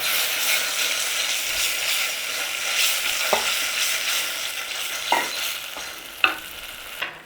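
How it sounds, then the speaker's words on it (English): Tomato passata being stirred into a pan for chicken parmi, sizzling steadily with a few sharp scrapes of the spoon against the pan, no voices. "In with your tomato sauce, your passata, marinara, whatever you are using. A nice little stir up on there."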